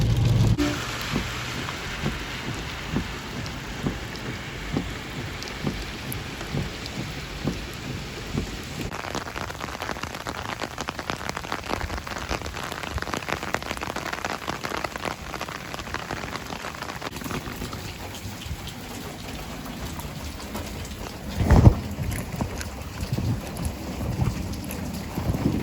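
Heavy overnight rain falls steadily in Northlake during a delivery run, a dense continuous patter on surfaces with a sharper gust or splash near the end.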